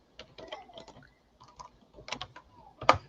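Someone types on a computer keyboard, producing quiet, close, irregular bursts of clicking keystrokes with short pauses between runs and a louder final tap.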